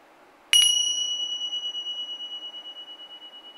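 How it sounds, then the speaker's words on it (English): A Tibetan ting sha is struck once, giving a bright, clear, high metallic ding that rings out alone in quiet and decays slowly with a gentle beating shimmer over several seconds. "I will start the meditation with the Tibetan ting sha, a little bell"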